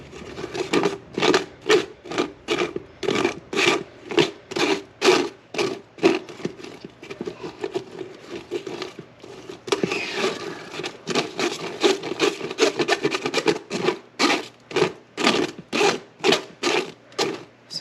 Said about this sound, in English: I'm trying to get all of this puree off of the strainer and into that bowl